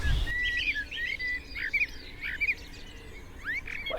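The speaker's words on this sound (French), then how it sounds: "Et de ce côté, un merle noir." Soft, fluty warbling of a blackbird rising from a quiet outdoor setting, a few mellow phrases drifting at a moderate distance.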